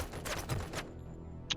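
Rapid burst of gunfire in the video game Robocop: Rogue City, a dense volley of shots over the first second, then a quieter tail with one short sharp crack near the end.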